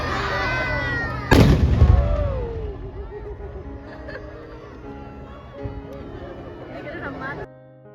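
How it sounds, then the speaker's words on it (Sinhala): A Ramadan iftar cannon in Qatar fires a single loud boom that ends the fast, following a crowd counting down. Shouting and cheering from the crowd rise around it, and the rumble fades under continuing voices. "මේ කාලතුවක්කුවෙන් වෙඩිල්ලක් පත්තු කරලා තමයි එයාලා පාස්ටින් ඉවරයි"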